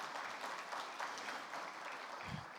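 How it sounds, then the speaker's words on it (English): Steady applause from a large crowd, a dense wash of clapping that holds evenly throughout with no voices standing out. "I was hoping for a bigger round of applause."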